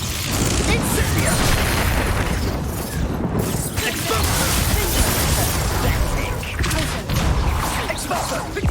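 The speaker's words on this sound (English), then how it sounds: "Incendio!" Fire spell cast in the video game Hogwarts Legacy, heard as a dense, loud roaring whoosh with bursts and booms, continuous for several seconds amid combat noise.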